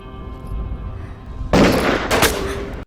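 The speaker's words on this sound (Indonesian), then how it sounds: "ketua para bandit melepaskan satu tembakan peringatan" A single sharp gunshot cracks out loud after a low rumbling background, followed by a second burst of echoing noise before it cuts off.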